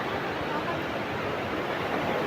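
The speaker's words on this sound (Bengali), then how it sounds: "জলের শব্দটা শুনতে পাচ্ছেন?" Water rushes at a waterfall near Jogighat bridge, making a dense, steady roar of broadband noise with no breaks.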